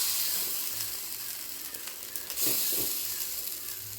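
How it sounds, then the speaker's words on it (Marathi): Appe batter poured into a hot appe pan gives a steady close sizzle and hiss over four seconds, with a brief louder crackle midway as more batter hits the oil. "आता त्याच्यामध्ये पीठ सोडूया, आपण जे तयार केलेलं होतं ते पूर्ण व्यवस्थित भरून घ्यायचं"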